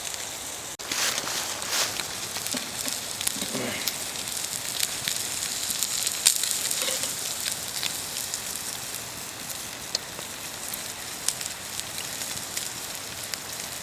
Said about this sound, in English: Got the ribeye grilling.